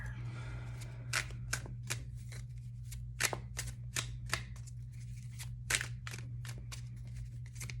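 A deck of tarot cards is shuffled by hand, giving a run of quick crisp riffles and snaps heard close up over a low steady hum, with no talking.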